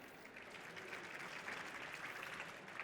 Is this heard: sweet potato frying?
no